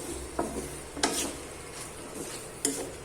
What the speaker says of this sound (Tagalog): Halo-haloin lang natin para mag-absorb yung lasa.